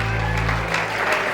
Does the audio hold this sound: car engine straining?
no